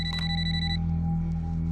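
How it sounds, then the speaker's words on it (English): A telephone rings in a drama scene, its electronic tone clear for about the first second before cutting off, with a low steady hum continuing underneath. "she receives an unexpected phone call"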